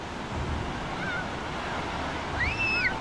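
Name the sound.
ocean waves and surf at the beach in Baler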